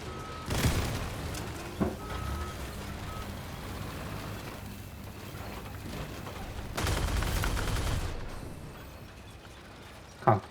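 Weapons on armored vehicles fire in the Crossout combat game: a sharp burst early, a short crack, then a longer rumbling volley and a final blast, over a low engine drone.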